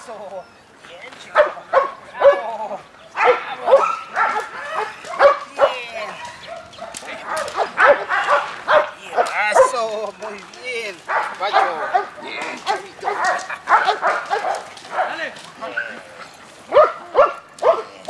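A dog barks and yips repeatedly in short bursts at close range, mixed with whimpers, while someone speaks Spanish to it throughout.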